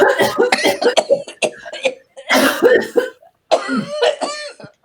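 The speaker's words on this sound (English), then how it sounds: "Good old cough again." A person coughs in several harsh, close bursts with throat clearing in between, loud and irregular, with short pauses between the fits.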